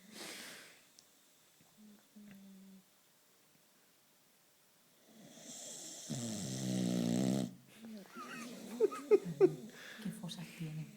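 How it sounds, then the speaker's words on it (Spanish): A boxer dog snoring, with faint snuffling at first, then a loud rattling snore near the middle followed by snorts and sniffs close by; a voice can be heard speaking faintly under it. "estando despierto, ronca."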